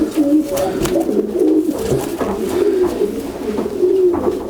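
A racing pigeon in a breeding loft coos repeatedly, low throaty burbling calls rising and falling in close succession, near and fairly loud, with no speech.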